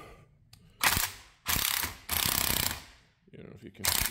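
A ratchet wrench with a socket working on a Dana 60 axle of a 1970 Dodge D200 during a ring and pinion change: four loud, close bursts of rapid clicking separated by short pauses.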